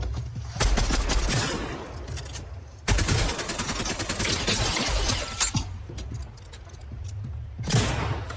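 Rapid bursts of SMG fire crackle in Fortnite, dense chattering volleys broken by brief pauses and separated by sharp onsets, loud and close throughout.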